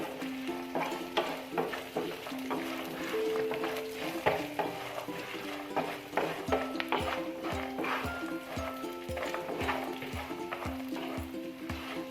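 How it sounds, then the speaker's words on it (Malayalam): Beaten rice flakes and walnuts dry-roasting in a pan, stirred with a spoon in a steady rhythm of light scraping and clinking strokes over a soft sizzle, close and fairly quiet. "നമ്മുടെ നട്ട്സും വാൽനട്ടൊക്കെ ഒന്ന് ലൈറ്റായിട്ടൊന്ന് റോസ്റ്റായിട്ട് വരണം."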